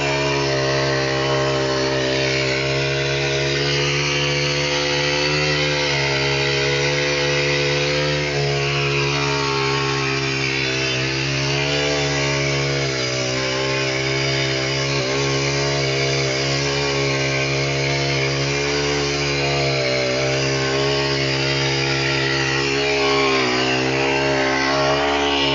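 A multi-purpose garden machine fitted with a weeder head runs steadily and loudly for the whole stretch, its engine droning with a strong harmonic whine that wavers slightly in pitch as it works around the base of garden trees.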